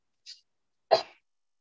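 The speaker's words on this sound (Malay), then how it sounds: "Minta maaf bersin pula." One sharp, close sneeze, preceded by a short faint intake, then silence, with no talking.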